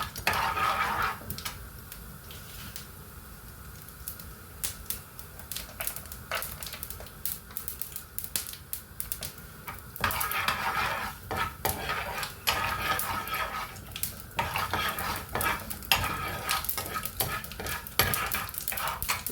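Mustard seeds and urad dal crackle and pop in hot ghee for a Kerala-style upma, with scattered sharp bursts over a steady sizzle that grow busier and denser toward the end, alongside occasional light clinks of utensils.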